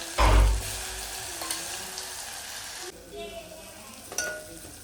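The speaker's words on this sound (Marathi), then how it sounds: "तेलामध्ये आता हा मसाला टाकणार जो आपण इथं वाटला ना तो" Ground masala paste drops into hot oil with a loud burst of sizzling, which settles into steady frying with stirring scrapes and light clinks of utensils against the pan.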